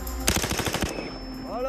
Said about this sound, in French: En rafale, elle tire jusqu'à 15 coups par seconde